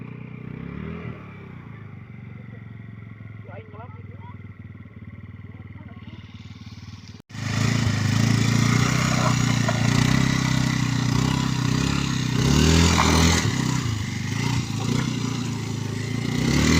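Motorcycle engine running on a muddy garden trip, a quieter idle for the first seven seconds, then a sudden jump to a loud, steady close-up roar with rattling clatter that holds to the end.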